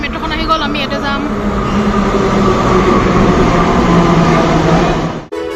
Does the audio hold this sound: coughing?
no